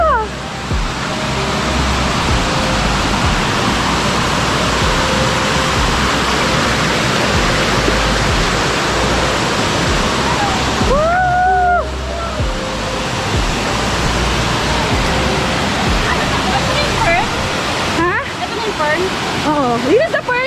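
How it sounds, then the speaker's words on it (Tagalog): Pearl Falls, a waterfall at Silvermine on Lantau Island, Hong Kong, roars as a steady, loud broadband rush of falling water throughout, with people talking briefly over it. "so we are here at the second waterfall here in Silvermine"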